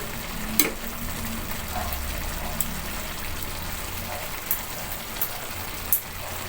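Eggplant frying in a pan for home-cooked paksiw na bangus, a continuous close oily sizzle with scattered sharp pops and crackles, steady and moderately loud without talk.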